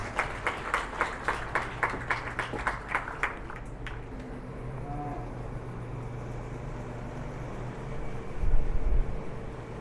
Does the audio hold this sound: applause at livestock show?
yes